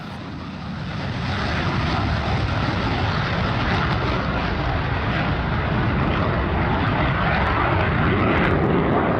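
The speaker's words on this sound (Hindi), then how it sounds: "करीब 60 से भी ज्यादा फाइटर एयरक्राफ्ट आसमां में अपनी ताकत की नुमाइश कर रहे हैं" Indian Air Force fighter jets roaring overhead during the Tarang Shakti multinational air exercise, a loud continuous engine rumble that swells in the first second and then holds steady and broad, with no voices.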